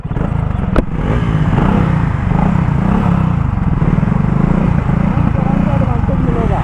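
A BSA Goldstar 650 and a Bajaj Pulsar NS400z motorcycle at a drag race give a loud, steady engine roar with a brief sharp knock near the start, and voices mix in beneath.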